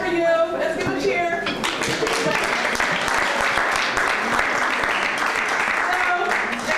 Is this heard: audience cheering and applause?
yes